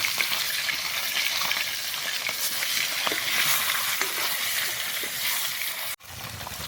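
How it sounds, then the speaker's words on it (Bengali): Fish sizzles steadily in a generous amount of hot oil, a loud, dense crackle that runs unbroken for several seconds before cutting off abruptly near the end. "তো মাছটা ভালোভাবে ভেজে নেব"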